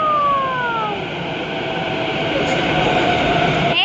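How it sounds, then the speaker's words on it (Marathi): A metro train pulls into a station platform, its loud broadband rumble steady throughout, with descending whine tones early on and a brief screech of brakes near the end, with no talking. "आमची ट्रेन सॉरी मेट्रो आलेली आहे."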